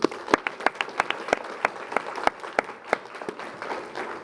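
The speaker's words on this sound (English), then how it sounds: "If you could join me in a round of applause" A small audience at a Chatham County small business event claps in sparse, distinct individual claps, each one crisp and separate, fairly faint and steady for a few seconds with no talk.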